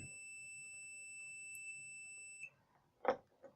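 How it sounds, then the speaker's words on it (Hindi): A multimeter's continuity tester beeps on a jumper wire, a single steady high electronic tone lasting about two and a half seconds before cutting off, followed by a few soft handling knocks. "ये देखिए बीप की आवाज़ आ रही है।"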